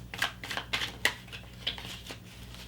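Tarot cards are shuffled in a quick series of soft riffling bursts, close and fairly quiet, with short pauses between them.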